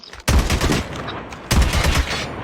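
Two loud bursts of gunfire from a shooting video game, each a sharp broadband blast trailing into rapid rattling shots, the first at the start and the second about halfway through.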